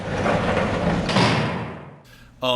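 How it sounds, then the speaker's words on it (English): Metal sliding door in a Resident Evil game opens with a loud, close hissing whoosh that swells and fades over about two seconds, followed by a brief resonant clank. "Metal sliding doors."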